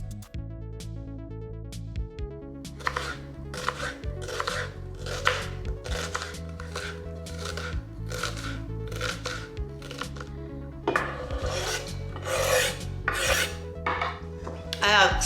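Knife chopping broccoli salad ingredients into little cubes on a cutting board, a steady run of quick close taps and scrapes, picking up pace and growing louder toward the end, with gentle music playing underneath.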